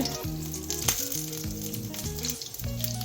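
Whole spices (cinnamon, cardamom, cubeb pepper and mustard seeds) frying in hot oil for soya biryani, a loud continuous sizzle close by, with a few brief crackles.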